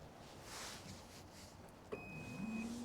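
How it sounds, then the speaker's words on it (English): The automatic tailgate of a 2023 Chevrolet Silverado closes after a button press, a short beep followed by a low motor hum rising under quiet outdoor background. "And you get an automatic closed tailgate."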